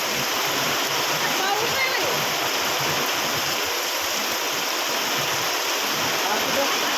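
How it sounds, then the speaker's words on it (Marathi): Heavy rain roars in a dense, unbroken wash of water noise, loud and close throughout, at a petrol pump. "कसला पाऊस आहे बाबा"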